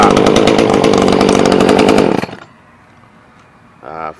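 A small chainsaw-type motor of the kind used on GoPeds runs loud and close with a fast buzzing rattle, then cuts down to a quiet low idle before a brief sputtering rev at the end.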